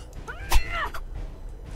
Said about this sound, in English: That's a cat. Stay away.